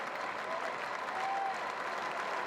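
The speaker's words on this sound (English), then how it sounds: "Crowd again." Steady applause from a cricket crowd at Edgbaston during an England versus West Indies Test match, a continuous far-off wash of clapping heard alone at moderate level.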